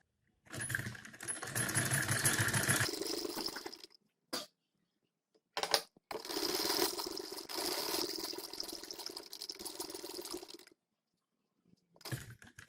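Sewing machine stitching an embroidered trouser: bursts of rapid mechanical whirring, one long run then another after a brief pause, with short isolated clicks between, close and fairly loud with no talk.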